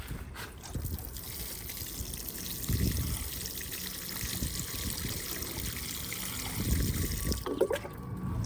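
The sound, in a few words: pouring water onto newly planted flower plants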